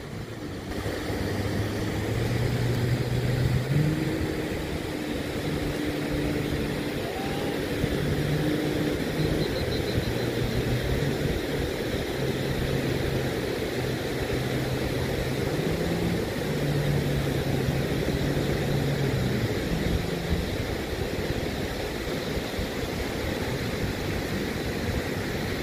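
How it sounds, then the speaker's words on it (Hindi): Water bike engine at Al Khan Beach in Sharjah, a continuous droning motor whose pitch shifts now and then under steady broadband wind and surf noise, with no talk. "water bike"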